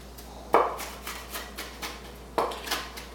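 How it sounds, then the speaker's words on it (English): Knife chopping onions coarsely on a cutting board, two firm near chops a couple of seconds apart with lighter knocks and scrapes between them, no talk. "I like a nice coarse chop on my"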